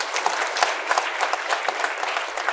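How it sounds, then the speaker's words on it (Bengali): An audience at an award ceremony claps steadily, a dense, even burst of applause filling the hall for a couple of seconds with no voices over it. "তাদের জন্য একটা হাততালি"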